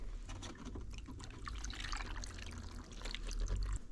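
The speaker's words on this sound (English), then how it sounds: "then I'm going to add some water here." Water poured into a small rock tumbler barrel holding rocks and fine clumps, a steady close trickle and splash running throughout with no talk.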